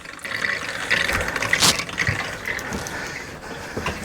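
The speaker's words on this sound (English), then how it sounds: "Well, the water coming in." Water runs into a household water filter system fed through a cheap pressure valve, making a steady, moderate rushing and gurgling flow with small splashy bursts and no voices.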